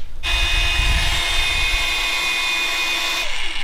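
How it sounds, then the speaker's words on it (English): A magnetic drill bores a hole in metal during work on a bus's rear suspension, giving a loud steady whine and grinding drone that starts abruptly and runs without pause close to the microphone. "then we'll lock that magnet in and drill our hole."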